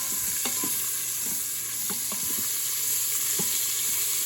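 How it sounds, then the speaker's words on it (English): Onions fry in bacon grease with a steady, close sizzle, broken by several scraping stirs of a utensil against the pan. "now we're going to add our onions, and we're just going to cook these until they're a little clarified"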